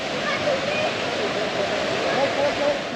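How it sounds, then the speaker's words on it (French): The Pipo river waterfall roars as a steady, broad rushing wash of falling water, constant and fairly loud throughout. "La cascade de la rivière Pipo."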